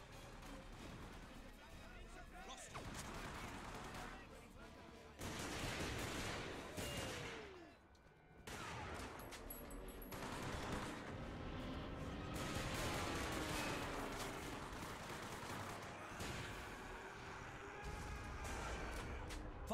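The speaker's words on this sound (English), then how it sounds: "Fine shooting, soldier" Soldiers' rifle and machine-gun fire crackles through a World War II battle in the Hour of Victory video game, repeated bursts and booming impacts layered with distant explosions and battlefield din, moderately loud throughout.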